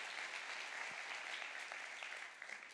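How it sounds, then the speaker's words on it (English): Congregational applause in a church, dense and steady clapping from many people that tapers off near the end. "we can give God a round of applause"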